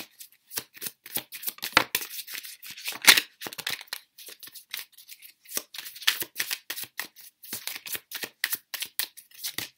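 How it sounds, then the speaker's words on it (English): A deck of tarot cards is shuffled repeatedly up close, giving rapid papery riffles and flicks in an irregular rhythm with short pauses between bursts and no talking. "let's grab these tarot cards"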